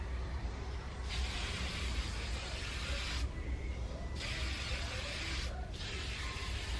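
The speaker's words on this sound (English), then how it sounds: "And this is actually olive oil sheen spray, boo." Olive oil sheen spray misted onto a wig: three long aerosol hisses, loud and close, separated by brief pauses.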